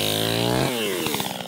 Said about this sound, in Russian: Сегодня здесь пилят елочки и сосны, которые отправятся на базары предновогодние.